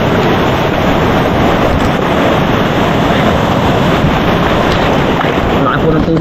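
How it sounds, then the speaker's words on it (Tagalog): Large ocean waves crash and churn in a continuous loud roar, with heavy wind buffeting the microphone throughout. "sa mga ganyang malalaking alon"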